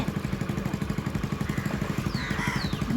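A small scooter engine runs steadily nearby with a rapid, even putter. A faint whine rises briefly near the end.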